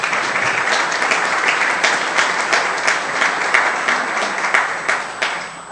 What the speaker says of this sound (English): So let's give all the award winners a round of applause